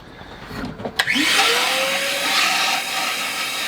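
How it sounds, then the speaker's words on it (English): A vacuum cleaner starts up with a click and whine, then roars steadily and loudly as it sucks water out of a sink on a sailboat, with gurgling underneath. "I'm gonna use the vacuum cleaner to suck out all the water that's in the sink"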